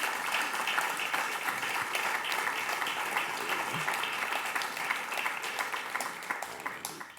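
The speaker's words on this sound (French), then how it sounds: "Et un applaudissement pour eux, je vous en prie." An audience applauds a prize jury at a literary award presentation, sustained dense clapping from many hands filling a hall at an even level and starting to thin out near the end.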